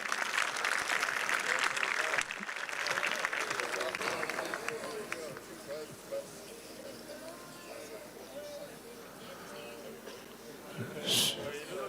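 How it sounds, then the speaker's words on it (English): Audience clapping at a high school capping ceremony, a steady broadband patter that is loudest at first and then thins out, with crowd noise and a voice underneath. "Give him a round of applause, please."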